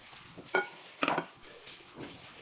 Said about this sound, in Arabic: خلطت البطاطا مع الكابوية مع البصل مع الفلفلة